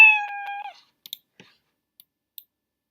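A cat-like meow sample is played backwards in Scratch, a short bright tonal cry that swells and cuts off abruptly, followed by a few faint, sparse clicks.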